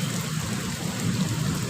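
Heavy rain pours steadily at night during a thunderstorm, a dense unbroken hiss of falling water with no distinct thunder clap, heard alone.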